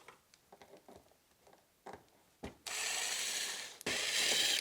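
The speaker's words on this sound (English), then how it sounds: "There's another 10 millimeter under here. Take that one out." Ratchet clicking in short bursts while backing out a 10 mm bolt on a Honda PCX150 scooter, close up, followed by a louder sustained rushing noise.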